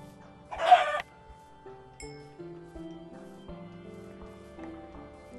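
A chicken in Minecraft clucks once loudly, followed by soft musical tones and quiet clicks in a calm, sparse soundscape.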